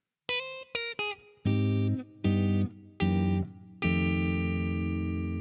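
Guitar chords with chromatic voice leading ring out one after another: three short stabs, then three longer held chords and a final sustained chord, bright and processed with effects.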